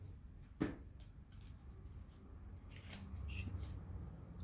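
Pokémon trading cards from Sun and Moon theme decks are shuffled by hand, giving soft papery riffles and taps under quiet conversation.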